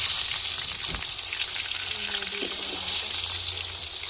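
Turmeric-coated potato pieces fry in hot oil with a steady, close, even sizzle and a faint clink of a utensil partway through.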